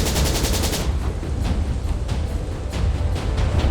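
Dense, sustained bolter gunfire barrage in a Warhammer 40k battle, with Iron Hands Space Marines fighting cultists: loud, continuous rattling bursts with rapid repeated reports filling the whole stretch, no voices.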